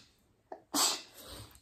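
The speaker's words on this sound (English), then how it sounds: "Excuse me, I have to sneeze" One person sneezes once, close and sharp, after a soft intake of breath, in a quiet indoor room.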